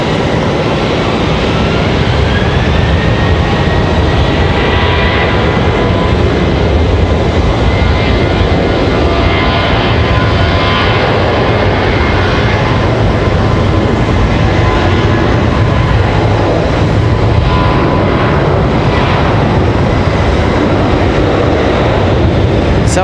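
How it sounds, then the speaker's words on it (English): Jet engine roar of a United Airlines Boeing 737 Max 8 or Max 9 at Raleigh-Durham International Airport, a loud, steady broadband rumble and whine holding for over twenty seconds with no talk. "Quite possibly be the Max 8 or Max 9 there for United Airlines."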